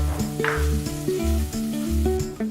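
An onion mixture fries in hot oil in a pan for a dried sprats tempered dish, making a continuous sizzle that sits under steady background music.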